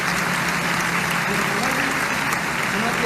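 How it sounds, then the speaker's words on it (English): Theater audience applauding a performer's debut at a children's theater, dense steady clapping filling the room throughout, loud and continuous with no breaks. "They're all standing and applauding for you."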